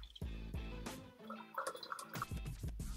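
Liquid poured off harvested brewing yeast, a splashing, gurgling stream with drips that starts and stops several times, close and fairly loud.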